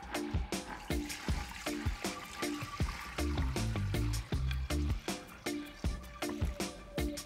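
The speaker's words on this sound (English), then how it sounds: "we're just gonna filter this back through here through the strainer." Cannabutter liquid poured through a strainer, with repeated splashing trickles and clinks in uneven bursts, close and fairly quiet, with no voices.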